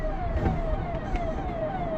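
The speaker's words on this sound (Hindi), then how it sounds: "पीछे पुलिस का हॉर्न है" A police car siren wails from behind on a road, a steady rising and falling tone over continuous traffic rumble.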